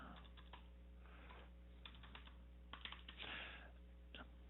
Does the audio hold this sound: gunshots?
no